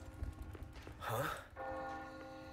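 A church bell rings in the Resident Evil 4 Remake village, a sustained resonant tolling tone rising over quieter game ambience after a breathy sigh.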